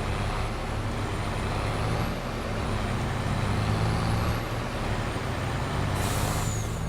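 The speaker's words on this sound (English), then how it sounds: "Another new truck." A new truck in a farming video game rumbles steadily with a continuous engine drone, a thin high whine running above it, and a sharp air-brake hiss bursting out near the end.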